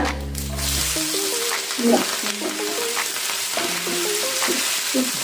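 Dried red chillies and whole green chillies sautéing in a pan for a Kerala dish, a close steady sizzle with scraping and stirring knocks throughout, no one talking.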